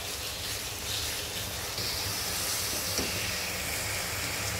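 Chicken mince fries in a pan with a steady, even sizzle and hiss that runs the whole time, close and moderately loud, with a slight shift in texture partway through and no talking.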